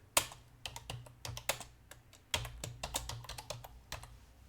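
A computer keyboard is typed on steadily while a trading alert is entered, a quick run of crisp, close key clicks in bursts with brief pauses, heard alone without talking.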